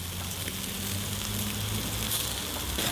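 Bacon sizzles steadily in a pan while frying alongside jalapeno poppers, a continuous close hiss with soft crackle and no talk.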